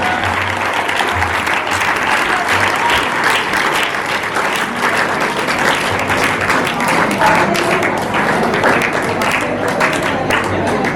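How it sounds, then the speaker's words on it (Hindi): A school audience at a Teachers' Day tribute breaks into loud, sustained applause as a teacher arrives on stage, the dense clapping steady and close throughout with a faint voice partly beneath it. "उनके लिए जोरदार तालियां हो जाए।"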